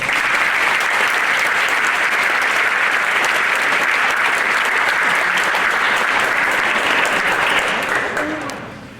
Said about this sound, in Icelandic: Og klappa fyrir honum.